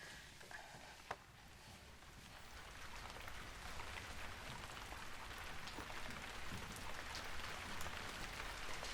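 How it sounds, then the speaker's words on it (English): Soft rain begins to fall in a stage play, a steady broadband patter that builds slightly over the seconds, with one brief sharp knock near the start. "The rain's starting to fall."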